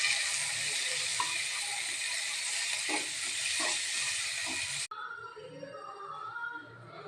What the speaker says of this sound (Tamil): இப்போ வந்து நம்ம நல்லா ஃப்ரை பண்ணிக்கலாங்க